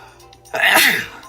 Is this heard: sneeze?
yes